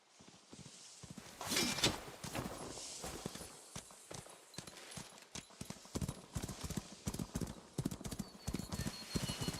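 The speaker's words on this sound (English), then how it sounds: "Come here, horse." Horse hooves clip-clop steadily in a video game, a brisk run of close, crisp hoof strikes with a brief whinny near the start and no talk.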